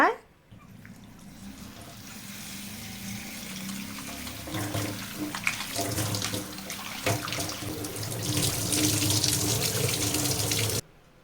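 A tap runs steadily into a sink while mutton pieces dusted with turmeric are washed, the water noise building and splashing louder toward the end before it stops abruptly.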